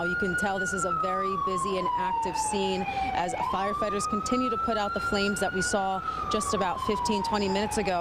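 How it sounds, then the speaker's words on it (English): Emergency vehicle sirens wail steadily at a plane crash scene where firefighters are putting out flames, the rising and falling tone loud and continuous while a reporter talks over it. "You can hear the sirens right now."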